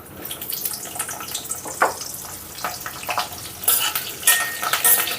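Pieces of drumstick (moringa pod) fry in hot oil in a pan, a close, crackling sizzle with intermittent louder spits and stirring scrapes.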